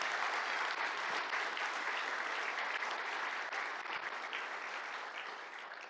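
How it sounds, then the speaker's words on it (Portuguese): Applause from an audience at a men's church conference, a steady, dense patter of many hands clapping, fairly distant and quiet, tapering off slightly at the end. "Você pode aplaudir ao Senhor em nome de Jesus?"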